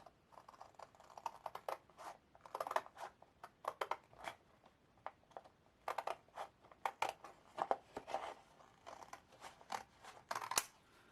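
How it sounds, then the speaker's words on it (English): Scissors cutting through thick paper for a handmade tri-fold folio, a close series of crisp irregular snips and crunches with short pauses between cuts. "this is a little too thick for my slicer, my cutter, so I just cut it with scissors."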